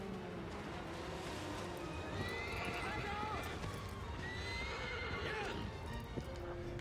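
A horse in the video game Shadow of the Colossus whinnies and neighs repeatedly while its hooves pound in a steady gallop, layered over continuous game ambience and a talking voice.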